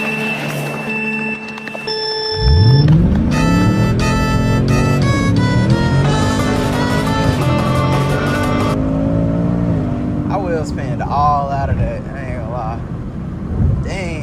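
A 2024 Ford Mustang GT V8 roars from a standstill through a hard 0 to 60 run, loud rising engine revs climbing through several gear shifts, the note settling after about ten seconds; tires likely spin briefly.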